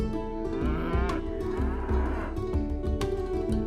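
Two white cattle moo in long, deep, droning calls that overlap and continue without a break, loud and close, with no talking over them.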